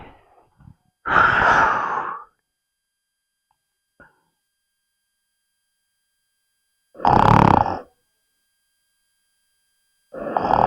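A man snores loudly like a pig in a comedic husband-and-wife skit: three long, rasping, snorting breaths, each about a second long, separated by stretches of silence.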